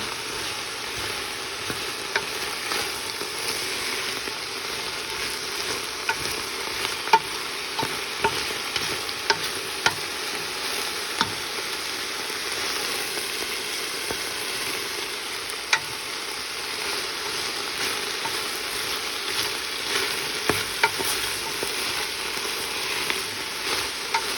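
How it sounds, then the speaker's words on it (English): Onions for French onion soup being stirred in hot oil, a steady sizzle with soft repeated scraping strokes running continuously throughout, close and moderately loud with no voices. "really mix up the onions so that the oil really coats them"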